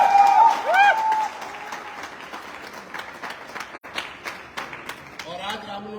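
An audience at a showroom celebration for a team's new luxury car bursts into sustained applause, steady clapping and some crowd noise continuing for several seconds, with a voice speaking over it at the start.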